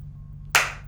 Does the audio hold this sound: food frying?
no